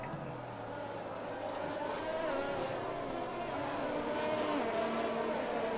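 A drag race car weaves side to side to heat its tires on a Bahrain track, its engine droning steadily and close with rising revs throughout, under a continuous mechanical roar.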